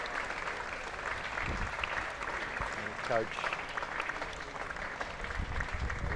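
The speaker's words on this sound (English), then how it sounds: "warm applause from all the players" Warm applause breaks out around an injured young rugby player being stretchered off at a schools rugby festival match, steady clapping from players and spectators continuing under a commentator's voice.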